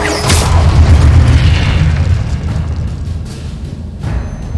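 Confringo spell blast in the video game Hogwarts Legacy, a loud deep boom with a rumbling tail that slowly decays, with faint crackles afterward.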